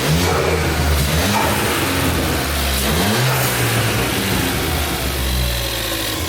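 A Ford Fiesta ST engine fitted with a blow-off valve revs up and down repeatedly, its pitch climbing and falling in loud surges over a steady rumble, with no talking.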